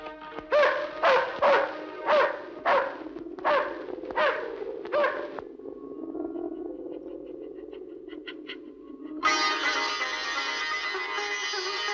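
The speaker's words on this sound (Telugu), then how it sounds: "ఇది ఎందుకు అరుస్తోందో అర్థం కావట్లేదే" A dog barks in a quick run of about eight loud, evenly spaced barks, followed by a lower rumbling background and then a sustained bright noise to the end.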